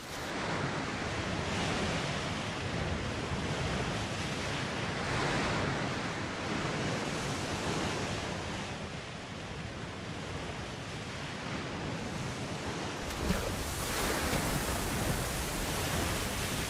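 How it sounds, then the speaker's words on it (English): Ocean waves meet the shore in a steady, full roar of surf that swells and eases slowly, with a fresh wash building near the end and no voices. "allow your attention to drift to the sounds of the waves meeting the shore"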